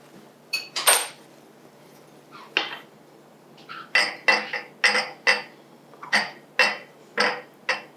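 A spoon stirs sprinkles in a bowl, making a string of bright clinks and taps, sparse at first and then a quicker, fairly regular run, close and distinct against a quiet background.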